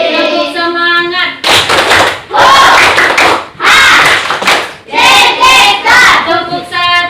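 A grade-5 class at an Islamic primary school in Indonesia claps in rhythmic bursts, with the children's chanting voices in between the clapping, all close and loud.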